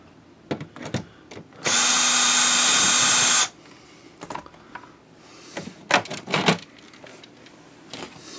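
A handheld power drill whirs in one loud burst of about two seconds as it backs screws out of an electrical converter cover, surrounded by clicks, clunks and handling noises before and after.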